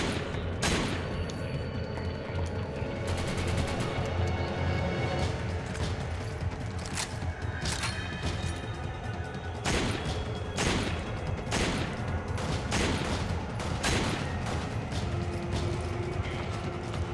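Resident Evil 5 combat brings rapid, steady gunfire and clattering impacts that run continuously at moderate loudness, with scattered sharper shots and no talking.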